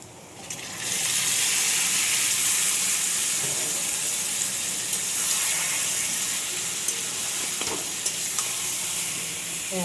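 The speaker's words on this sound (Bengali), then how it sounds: "এবার আমি এই পেঁয়াজের উপরে মাংসটা দিয়ে দেব।" Meat drops onto browned fried onions in a hot pan and bursts into loud, steady sizzling that carries on for several seconds, with faint scrapes of stirring.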